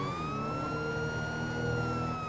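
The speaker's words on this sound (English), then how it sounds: "Let's turn on the siren." A police siren wails steadily in GTA Online, its rising and falling electronic tone loud and continuous over a low engine rumble, with no talking.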